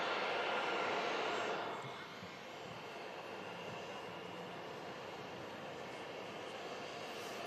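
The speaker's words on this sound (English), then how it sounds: "Lufthansa A321 taxiing out on the south side as the Ryanair touches down from Berlin on 23 right" A Lufthansa A321 taxiing on the south side of an airport while a Ryanair jet from Berlin lands on runway 23 right, giving a steady broadband jet roar that is loudest at first, then eases to a constant rumble.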